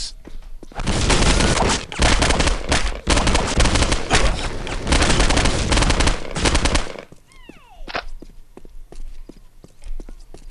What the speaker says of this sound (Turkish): M4 abiyle sıkıyor